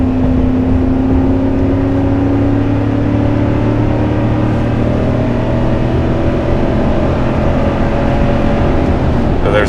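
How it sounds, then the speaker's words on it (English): A Ford Raptor truck's V8 with a MagnaFlow muffler exhaust rumbles steadily, its deep drone rising slightly as the throttle rolls on, loud and close with no talking. "But man, listen to that V8."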